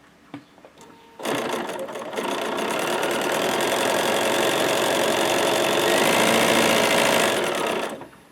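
Close and loud, a sewing machine stitches down a quilt block, running at a steady, even whir for about seven seconds after a few quiet handling sounds.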